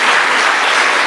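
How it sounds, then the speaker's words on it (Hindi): An audience at a spiritual gathering breaks into loud, dense applause, many hands clapping at once in a continuous close burst with no voices over it. "गुजरात वाले के आप ताली बजा"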